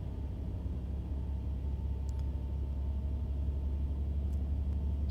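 A locomotive engine in the railway simulator game Train Life throttles up, heard as a steady, loud low rumble and drone that holds constant throughout, with a couple of faint brief high clinks and no talking.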